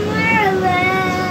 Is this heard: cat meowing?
yes